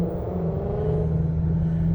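A modern car at a Sunday morning car meet gives a low, steady engine rumble and drone as it rev-matches itself automatically, close by and continuous, with no talk.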